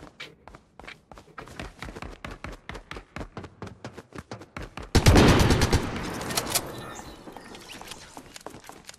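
Dual pistols firing in a video game: a rapid string of crisp, evenly spaced shots that quickens, then a loud burst of overlapping blasts with a ringing tail, and scattered shots afterward.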